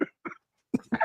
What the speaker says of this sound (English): I'm trying not to cough into the microphone